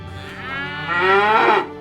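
A single long, loud cow moo, rising and swelling before cutting off, close by.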